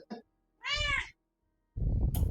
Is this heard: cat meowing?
yes